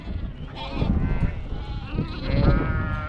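Sheep bleat repeatedly at close range in a yard on a Western Australian sheep farm where dry ewes are being drafted, several overlapping calls rising and falling over steady flock noise.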